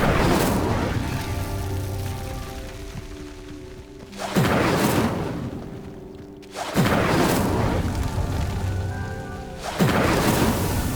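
The Incendio fire spell is cast in the video game Hogwarts Legacy, with three broad, roaring whooshes flaring up over a constant rain-like hiss.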